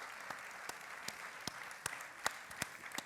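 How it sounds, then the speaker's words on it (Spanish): Audience applause for novelist Marta Sanz at the Ja! 2016 Spanish satire and humour festival: steady clapping from a crowd throughout, with sharper individual claps standing out above the wash. "pido un aplauso para Marta Sanz, por favor."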